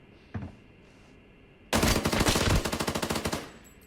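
After a lone faint shot, a loud close burst of rapid automatic fire from a G18C pistol in the video game Arena Breakout rattles for nearly two seconds, then stops abruptly.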